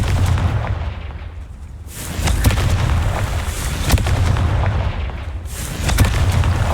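Loud blasting-spell explosions in the Hogwarts Legacy video game burst one after another, heavy booming impacts with rumbling tails, the second and third blasts arriving close together.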